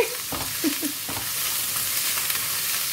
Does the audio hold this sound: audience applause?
no